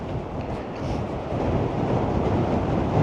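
Strong wind buffets the microphone on the coast at Bodrum, a dense continuous roar that swells slightly louder over the moment, with no voices.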